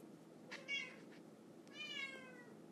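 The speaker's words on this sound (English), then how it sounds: "Oh, I got a kitty meowing for some reason." A pet cat meows twice indoors, a short cry followed by a longer drawn-out one, faint and somewhat distant against a quiet room hum.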